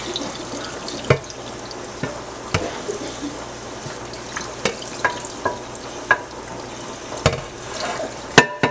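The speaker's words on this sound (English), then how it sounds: "So I'm just going to lightly turn on the water so it's not splashing anywhere." A tap runs gently while glass etched with Armour Etch is rinsed in a sink, a faint steady wash broken by small splashes and knocks.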